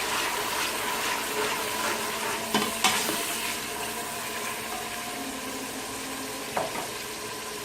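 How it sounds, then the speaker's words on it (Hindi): Loud, steady sizzling of golden onions frying in hot oil for chicken biryani, with a few brief clinks and bursts of spitting as sprinkled water hits the pan. "इसको मैं छींटे मारूंगी थोड़ा सा पानी का, इस तरह से।"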